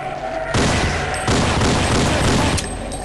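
Dense, loud gunfire in the Half-Life mod Azure Sheep, with sustained bursts of rapid shots filling most of the span and a sharp boost in intensity midway.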